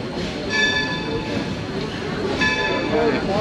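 A train rides along the former Delaware, Lackawanna and Western Railroad at a steam-era rail yard, with a continuous rolling rumble and faint ringing, squealing tones rising twice over the steady noise.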